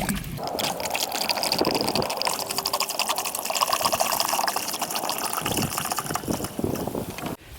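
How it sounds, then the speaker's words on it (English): Water pours steadily into a primary fermenter for blueberry wine, a continuous splashing, trickling stream heard close up with no talk. "So let's go ahead and throw this into our primary fermenter."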